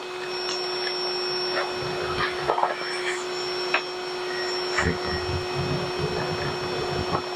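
A Harbor Freight cordless 7-gallon shop vac whines steadily as it sucks up debris such as tile, brick bits, wood chips, screws and washers, with scattered rattles and clicks and faint talk now and then.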